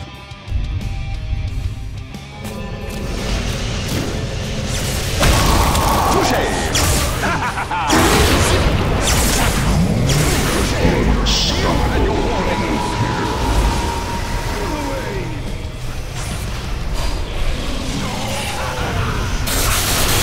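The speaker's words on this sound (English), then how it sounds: "Dire's top tower is under attack." Dota 2 combat as a tower comes under attack: repeated smashes, whooshes and impact thuds clatter densely and loudly over constant game noise, with a voice talking over it.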